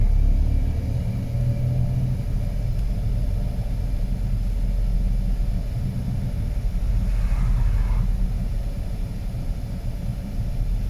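A car idles and creeps along a one-way city street, its engine a low, steady rumble close by with faint road noise and no talk.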